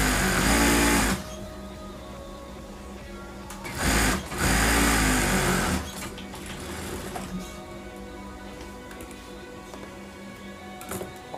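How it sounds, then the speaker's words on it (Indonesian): A sewing machine stitches the folded double hem on the back panel of a pillowcase, with a loud short burst, a second burst a few seconds later, then quieter handling and faint mechanical ticking. "Tinggal dijahit aja."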